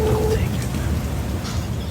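Steady rain pours down with low rumbling thunder, loud and close, and no voice is heard over it.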